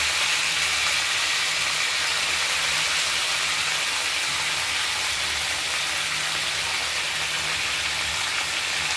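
Mixed vegetables (brinjal, ridge gourd, pointed gourd, radish, potato, green banana, drumstick) frying in hot oil with panch phoron in a kadai, giving a steady loud hiss and sizzle throughout.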